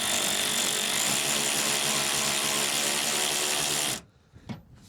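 A power tool, likely an impact gun, runs loud and steady, tightening rear subframe bolts on a Volkswagen Golf GTI for about four seconds, then cuts off, leaving a couple of faint clunks.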